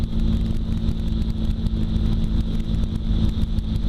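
A tow aircraft's engine in flight over Lake Tahoe, a loud, steady droning hum with a constant tone throughout, heard from close by.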